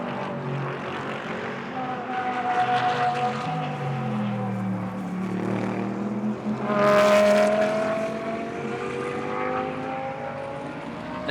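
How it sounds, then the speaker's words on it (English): Several GT race cars in a Blancpain Sprint Series practice session at Moscow sweep through the final corner, engines droning with rising and falling pitch as they pass, one car swelling loudly close by midway before fading. "Alexei Karashev in the 70 GT Russian BMW Mercedes coming down into the final corner now"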